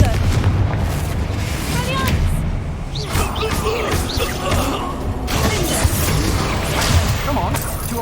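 Confringo blasting spell going off in Hogwarts Legacy, loud booming explosions and shattering bursts layered over dense game action, with a character voice shouting over the din.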